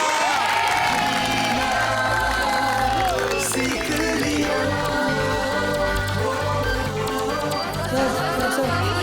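A crowd claps and cheers loudly with whoops and shouts, a sustained wash of applause mixed with music-like tonal lines and voices throughout.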